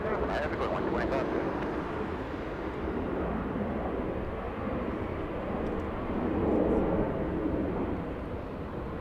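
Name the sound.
Lufthansa airliner at Los Angeles International Airport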